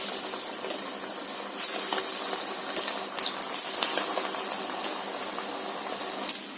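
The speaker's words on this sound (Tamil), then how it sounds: "தட்டி அப்படியே எண்ணெய் போட்டுருங்க" Drumstick leaf spinach vada fry in hot oil, a steady loud bubbling sizzle that continues throughout with brief surges of crackle, no talking heard.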